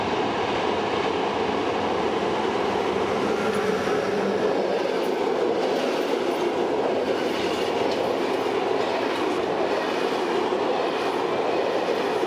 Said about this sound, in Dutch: Hier komt een 1016 van de ÖBB, beter bekend als zijnde een lok